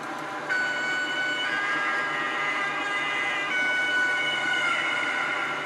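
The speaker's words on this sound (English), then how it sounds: "the horns work differently depending on what speed it's going at" A high-speed TGV model train running on a rolling road sounds its horn, a sustained two-tone electronic wail that holds steady for several seconds, loud and close.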